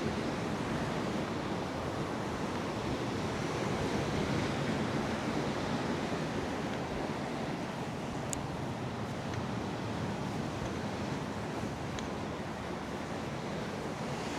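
Sea waves crashing against rocks on a sandless rocky shore at Costa de la Calma, Mallorca, a constant loud roar of surf with wind buffeting the microphone and no voices.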